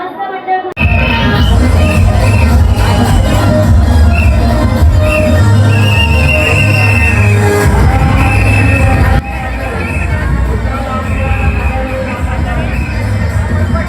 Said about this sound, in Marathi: केलंबा देवीला ना गर्दी बघू शकता